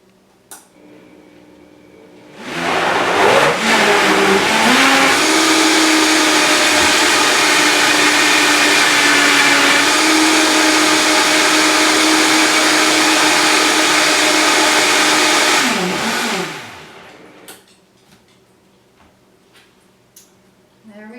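A blender whirs up a collagen chocolate smoothie with added collagen powder, a loud steady motor roar starting after a couple of seconds, holding for about thirteen seconds, then winding down to quiet.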